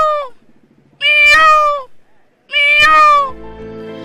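Two loud, sharp calls about a second apart, a voice imitating a peacock's cry, each a short, piercing, meow-like wail, followed by a low background rumble.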